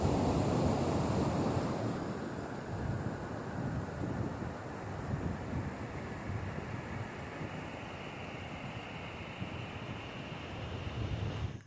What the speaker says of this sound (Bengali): সমুদ্রের এই আওয়াজটা শুনতেই কি ভালো লাগে তাই না